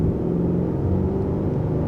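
A 2021 Hyundai Sonata N-Line with 290 horsepower and a dual-clutch transmission accelerates, its engine a steady, droning cabin rumble heard from inside the car, with no distinct shift break standing out.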